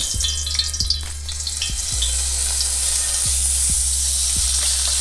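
Surfperch frying in hot oil in a pan, loud continuous crackling sizzle with a steady low hum underneath and a few soft knocks, close and without talk.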